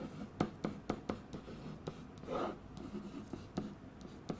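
Pen or pencil scratching across paper while a math problem on dividing rational expressions is written out, a close, quiet run of short strokes and taps with a brief longer rasp midway, no talking.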